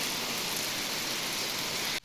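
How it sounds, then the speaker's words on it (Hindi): Steady heavy rain falling outside in the early morning, a dense even wash of patter that cuts off abruptly near the end. "बाहर बारिश देखो कैसी लगी है"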